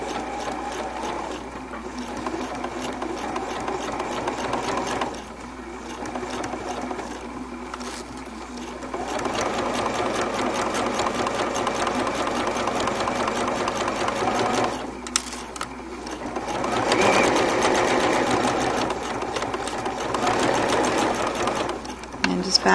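A sewing machine edge stitches an elastic casing with bias binding, its needle running in a steady rapid chatter for long stretches, pausing briefly and slowing now and then, up close throughout.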